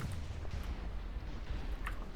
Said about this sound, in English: here comes another broadside of Broken Spirit guns